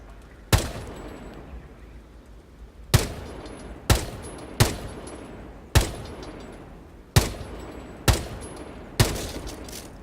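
Single-fire gunshots in Rainbow Six Siege: eight sharp, loud reports at uneven intervals, each with a short decaying tail, and no voices.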